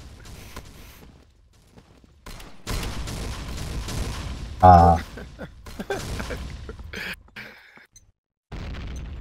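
Gunfire and explosions in the video game Combat Arms, with an M32 grenade launcher, come as scattered bursts and booms with one louder blast midway, mixed with a player shouting and talking excitedly.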